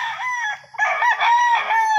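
A fighting rooster crows loud and close at feeding time, one drawn-out call with some clucking alongside.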